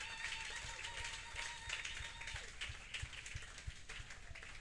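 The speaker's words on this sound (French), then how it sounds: "Acclamons pour la gloire de notre Dieu." A church congregation applauding, a spread of many hands clapping steadily at moderate distance, with a sustained musical tone and some background murmur underneath.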